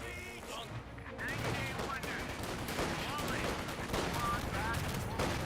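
Continuous rattling gunfire and bursts from a Company of Heroes 2 battle between US infantry and a quad half-track, dense and steady throughout, with in-game voice callouts layered over it.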